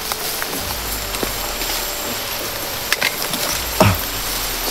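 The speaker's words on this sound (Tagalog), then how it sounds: "May ulan tol." Rain falls near a stream in the woods, a steady close hiss with a few faint knocks and a brief louder rustle near the end; no one speaks.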